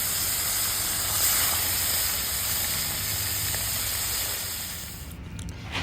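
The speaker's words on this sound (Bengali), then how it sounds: "এখন আমি এক এক করে মাছগুলো ভেজে উঠাবো" Pieces of fish dropped one by one into hot oil in a wok send up a loud, steady spraying hiss that runs throughout and thins slightly at the very end.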